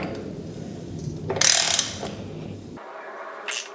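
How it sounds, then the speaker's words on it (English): A ratchet tightens the axle nut on a 2024 Triumph Scrambler 400X during a sprocket install, making short clicking bursts with mechanical clatter, moderately close with no talking. "The axle nut has to be tightened to 72 foot-pounds."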